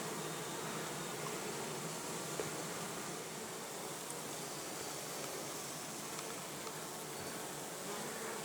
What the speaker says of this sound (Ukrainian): Бджола йде важка, падає на стінку вулика і вже по стінці часто добігає пішком до рядка багато бджоли на рядках.